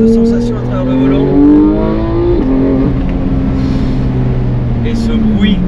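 A Porsche 911 GT3 of the 991.2 generation accelerates hard, its engine note rising steadily in pitch, briefly dropping at a gear change and climbing again, loud and close from inside the car.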